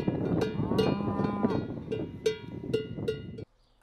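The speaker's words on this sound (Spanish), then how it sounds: "El sonido de la vaca es el mugido. La vaca muge." A cow moos in a long, low call, close by in the French Pyrenees, followed by several clanks of a cowbell at a steady, irregular pace.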